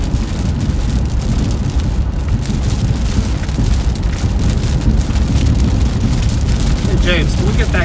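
Heavy rain pours steadily throughout during a storm chase, a dense continuous wash of drops drumming on surfaces close by, loud and unbroken with no clear voices over it.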